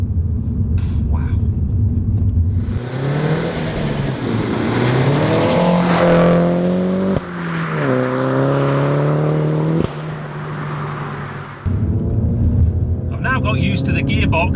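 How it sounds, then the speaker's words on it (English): A Mulgari ICON2 'Warbird' Mini engine revving and changing gear, loud rising revs with auto rev-matched downshifts and exhaust pops and bangs, heard close from inside with someone talking over it. "Auto rev match on the downshift, so that produces the pops and bangs on"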